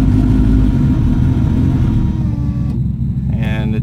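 A cold Honda Civic engine on an all-wheel-drive conversion, jump-started from a truck, runs loud and rough close by, a steady low rumble that sags and fades as it stalls.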